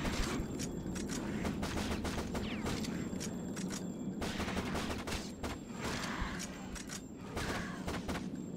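Rapid, continuous gunfire from the video game Shadowgrounds: Survivor, shooting at a barrel, as a dense stream of sharp, evenly spaced shots over a steady roar of game noise, with no talk.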